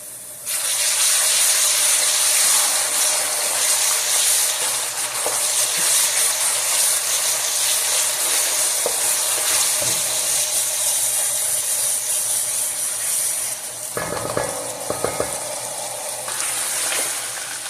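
Onions frying in a pot as ginger garlic paste is stirred in for a Punjabi chicken biryani, a loud continuous sizzling hiss with a few clattering scrapes of stirring near the end.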